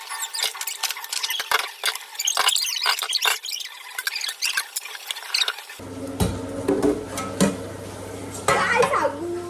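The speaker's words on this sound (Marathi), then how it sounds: "आणि इथे मी भांडी घासते." Dishes, pots and pans being scrubbed and washed with clattering metal knocks and scraping, first under a voice and then beside running water and louder clinks.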